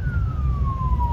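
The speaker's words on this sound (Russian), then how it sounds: "Аж сирены, блядь, вон." A police car siren wails steadily in a single long descending sweep, heard from inside a moving car over a low rumble of road and engine noise.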